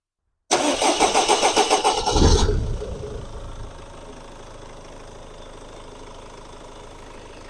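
A SsangYong Actyon Sports with a 2.0 diesel engine, a truck that starts late in the mornings, cranks with a rapid rhythmic whirr for about two seconds, catches loudly, then settles into a steady close-up idle.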